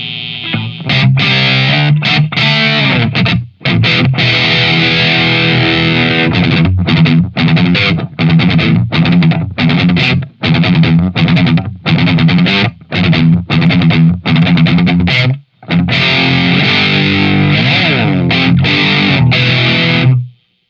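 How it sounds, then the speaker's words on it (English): An electric guitar played through a Boss XT-2 Xtortion distortion pedal with all knobs at noon gives loud, dense, heavily saturated riffs cut by abrupt palm-muted stops and brief silences, heard alone. "this is the Boss XT2 Xtortion"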